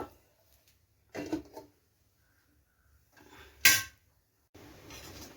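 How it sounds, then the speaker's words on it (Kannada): A pot lid is lifted and Bombay saagu curry is stirred as it boils, giving three separate bursts of metal clatter and scraping against the pot, close up and separated by near silence. "ಮಧ್ಯ ಮಧ್ಯ ಮುಚ್ಚಳ ತೆಗೆದು ತಿರುಗಿಸ್ತಾ ಇರಬೇಕು"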